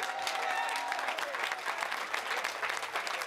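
A crowd at a Wacken metal festival claps steadily for a Spanish band. The applause stays dense and sustained throughout, with faint tonal sounds under the clapping.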